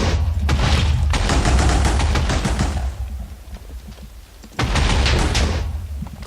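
Minecraft mod explosions set off by an exploding Samsung Note S7 phone item: two loud, rumbling blasts, each lasting a few seconds, with a brief quieter gap between them.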